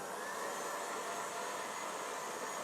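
An electric mixer runs at a higher speed while beating cake batter for a steamed mocha ganache cake, giving a steady, fairly quiet whirring hum with no pauses.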